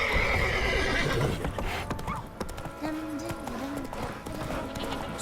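Roach, a horse in The Witcher 3, gallops with steady clip-clop hoofbeats and gives a whinny partway through, heard under game music and voices.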